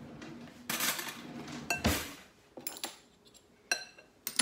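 Dishes and utensils clink and clatter in a home kitchen during chorizo, egg and potato breakfast prep, a series of sharp, close knocks and rattles with quiet gaps between them and no talking.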